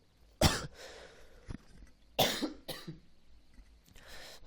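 A person with a cold coughs several times, sharp close bursts spaced apart over a few seconds, with quieter throaty follow-ups and no talk.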